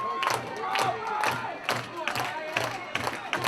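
A live indoor pro wrestling crowd erupts in rhythmic bursts of cheering and shouting, loud and close, pulsing roughly every half second like a chant, with voices mixed in.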